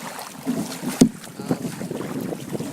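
Wind roars into the microphone on a kayak paddle from Yowie Bay toward Audley Weir, a steady broadband rush with a few soft knocks and splashes from the boat mixed in.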